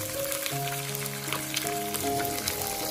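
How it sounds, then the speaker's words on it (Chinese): Crucian carp sizzles steadily in a hot pan, a constant crackling hiss with faint clinks and tonal hums in the background. "这种方法煎鱼一定不会粘锅，也不会破皮"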